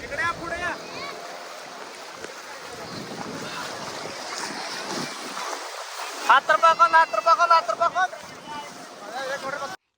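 A boat moves across open water off Goa, with steady wind and wave wash over the microphone, then a rapid series of loud rhythmic bumps or slaps partway through; close and continuous, with no clear talk.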